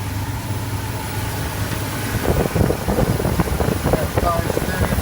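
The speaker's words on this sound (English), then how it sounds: "1978 Ford" A 1978 Ford F-150 Ranger truck engine idles with a steady low rumble, some wind noise across the microphone and busier knocking sounds joining partway through.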